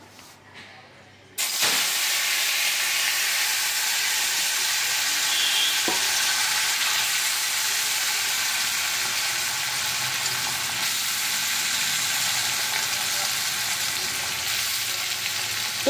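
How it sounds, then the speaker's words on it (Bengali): Potatoes dropped into smoking-hot oil set off a loud, steady sizzle that starts abruptly after a quiet moment and keeps hissing evenly, close up, with no talk over it. "এই দেখো তেল হয়ে গেছে, এই যে ধোঁয়া উঠেছে, এরপর আমি আলুগুলো ছেড়ে দেব। এই দেখো আলু ভাজা"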